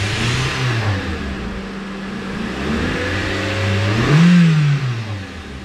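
A 2016 Toyota Corolla S engine revs up in rising and falling sweeps, climbing to a louder peak near the end, heard up close with no talking.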